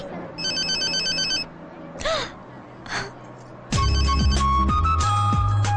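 A phone gives a brief electronic ringtone, then after some short vocal sounds a louder, fuller melodic ringtone plays and keeps going.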